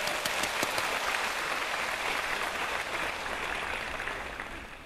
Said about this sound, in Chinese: 让我们掌声欢迎。